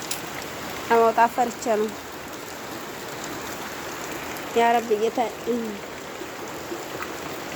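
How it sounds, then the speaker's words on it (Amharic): Sudden rain falls steadily outdoors with a dense, even hiss that runs the whole time. Someone speaks briefly twice over it, close and clear above the downpour. "ድንገተኛ ዝናብ ነው ማለት ነው።"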